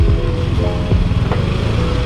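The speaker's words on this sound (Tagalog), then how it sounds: "Pakistart yung motor" A motorcycle engine runs loud and close at a vehicle registration renewal inspection, with a steady low rumble and a slight uneven pulse throughout.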